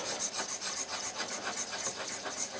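A steel blade or flattening stone rasping back and forth across the 600 grit side of a wet whetstone, a steady rhythmic scraping with repeated strokes, close and fairly loud, no voices.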